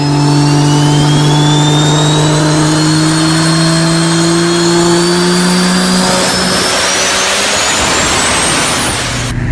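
A diesel truck engine with a homemade exhaust rumbles loudly and steadily, its pitch climbing as it revs up, then dropping off near the end.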